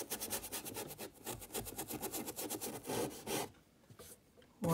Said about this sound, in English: all I'm doing is lifting with a dry brush, scrubbing off the oil